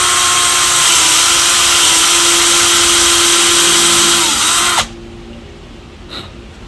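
Power tool drilling a hole in the lower part of a bathroom door, a loud close whine with a steady pitch and a faint downward bend, cutting off abruptly near five seconds, followed by a brief soft knock.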